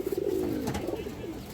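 Pet pigeons offered in pairs at a pigeon market give soft, repeated throaty coos, close and steady across the whole moment, with no talk over them.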